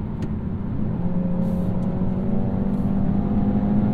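A 2023 BMW X1 accelerating hard to get around a truck, its engine humming in a steady, rising drone heard from inside the cabin, with no talking.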